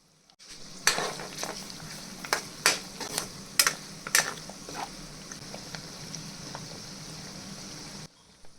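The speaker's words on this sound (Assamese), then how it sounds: "এতিয়া মই ইয়াতে বাঁহৰ গাজখিনি দি দিছোঁ আৰু 2 মিনিট সময় এইখিনি মই এনেকৈ লৰাই থাকিম।" Bamboo shoots for a ghost pepper pickle are stirred in a frying pan, with a soft steady sizzle and sharp, irregular scrapes and clinks of the utensil against the pan, close and with no talking.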